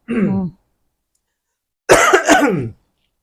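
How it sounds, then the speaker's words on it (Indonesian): Two bouts of coughing separated by a short silence: a single brief cough, then a louder double cough, close and clear. "Agak batuk hostnya."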